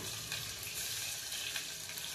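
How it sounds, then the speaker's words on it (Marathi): Chopped onion fries in oil inside a pressure cooker, producing a dense, even sizzling hiss heard up close and alone. "कांदा फ्राय होत आहे।"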